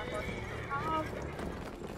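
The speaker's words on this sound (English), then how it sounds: "Horse in a building, horse in a building, horse in a building." Horse hooves and neighing in the Battlefield 1 video game on PS4, a brief whinny and hoof clatter heard amid gunfire-filled battle ambience while a player talks over it.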